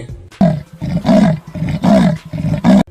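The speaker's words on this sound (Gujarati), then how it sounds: "દીપડાનો અવાજ અસલ જિંદગીમાં કંઈક આવો હોય છે" A leopard roars in a rough, sawing series of about seven rasping grunts, loud and close, with short pauses between them.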